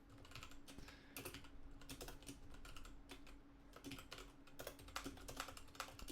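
Rapid, steady typing on a computer keyboard with a sticky, failing E key, a dense run of close clicks and keystrokes with no talking.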